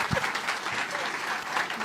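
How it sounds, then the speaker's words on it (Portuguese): An audience gives a standing ovation for Brazil's economy minister Paulo Guedes, with dense, steady clapping filling the room from start to finish. "Aplaudido de pé aqui, Paulo Guedes"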